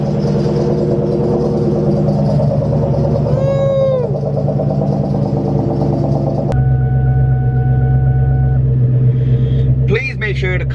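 Ford Mustang Terminator Cobra running on a dyno, a loud, close engine roar with rising and falling revs that settles into a steady drone, with a brief whine near the end.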